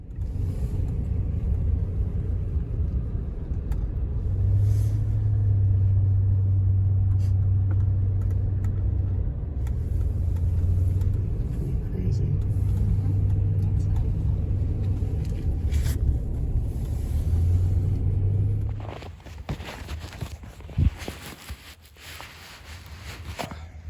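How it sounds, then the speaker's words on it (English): A four-wheel-drive 2018 Toyota Tundra Platinum pickup towing a travel trailer through snow, heard as a steady low engine and road rumble from inside the cab for most of the stretch. The drone then drops away to quieter, scattered noise. "travel trailer hooked up to our four-wheel drive 2018 Toyota Tundra Platinum, and it seemed to handle that load without difficulty in the snow in four-wheel drive"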